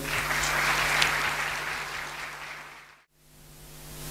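A conference audience breaks into applause for a doctor who has just spoken on school conflict and coexistence, a dense clatter of clapping that swells, then fades and stops abruptly.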